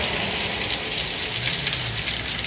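Water overflowing a clogged house gutter, a steady loud rushing spill of runoff pouring continuously without pause, close by.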